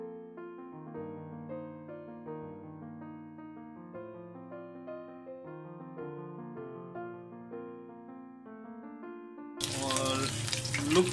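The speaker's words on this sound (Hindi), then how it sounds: "हमारा घी गर्म हो चुका है और अब हम इसके अंदर चप्पल कबाब डालेंगे और उसको फ्राई" Beef chapli kababs drop into hot ghee near the end, and a loud, dense sizzle bursts in suddenly after a long stretch of soft piano-like music.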